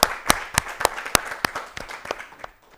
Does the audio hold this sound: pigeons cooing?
no